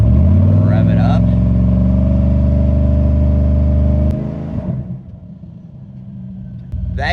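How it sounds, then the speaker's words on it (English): A car engine revs up and holds a loud, steady drone for about four seconds during a battery charging test, then drops back to a lower, rougher idle rumble while a person speaks briefly over it. "Rev it up."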